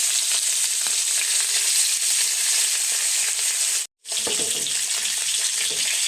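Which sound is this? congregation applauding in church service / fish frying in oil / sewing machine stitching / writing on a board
fish frying in oil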